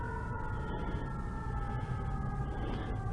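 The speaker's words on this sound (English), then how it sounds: "Oh, now there's a siren." A fire truck siren wails at a distance outdoors: a faint, steady rising tone under a constant rumble of traffic or wind noise.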